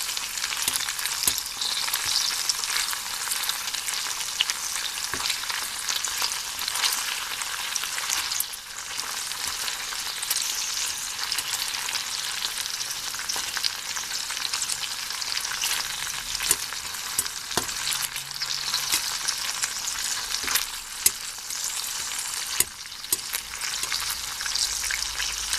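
Lamb fat and pieces of meat frying in hot oil in a pan for a Thai lamb curry, a steady close sizzle and crackle with occasional stirring clicks and no talking.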